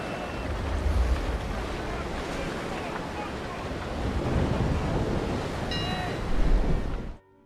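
Wind and rolling ocean waves in the naval sailing game Naval Action, a steady broadband wash at sea with gusty swells and faint creaks, continuous and fairly loud, with no talking.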